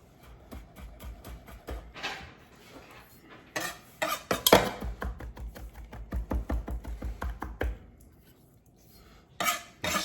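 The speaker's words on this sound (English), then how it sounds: "So we're just gonna do a little mince on this." A knife chops garlic on a cutting board in a kitchen, with quick, sharp taps that come in irregular runs and pauses, close and clear.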